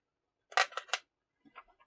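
A plastic thumb grip stick on an XE-1AP controller is twisted off, giving a quick cluster of three or four close, dry clicks and rasps, then a few softer scrapes.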